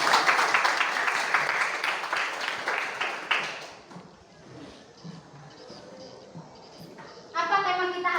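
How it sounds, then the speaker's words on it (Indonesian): A school class applauding in a classroom counselling session, a burst of many hands clapping for about three seconds before fading into murmuring voices and a renewed brief burst at the end. "tepuk tangan"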